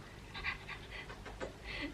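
An excited dog pants rapidly and steadily in a quiet room, a close, soft breathy rhythm of quick huffs with a faint whimper toward the end.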